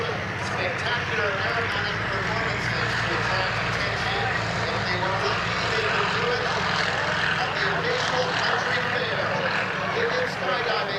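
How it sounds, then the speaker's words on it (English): A Pitts Model 12 aerobatic biplane rolls on takeoff at an airshow, its engine droning loud and steady throughout, with a commentator talking over it. "And rolling the Pitts Model 12 on takeoff."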